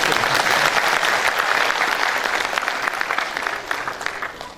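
Hearty applause from a crowd at a Gakhar talent award gathering, dense and continuous throughout, easing slightly toward the end.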